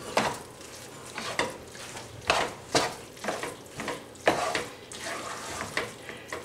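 Halupki ingredients (cabbage, meat, starch and salt) stirred in a pan: a series of scraping, clattering strokes in an uneven rhythm over a soft sizzle, close and fairly loud, with no talking.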